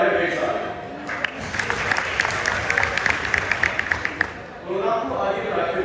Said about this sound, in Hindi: लेकिन उनकी कहानी हम तभी सुनाएंगे जब बजेगी तालियां ढेर सारी।